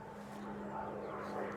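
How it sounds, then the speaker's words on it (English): A jet aircraft passes overhead as a steady, broad, droning roar that swells slightly and holds throughout, with a constant low hum underneath and no talking. "there's a jet flying past again"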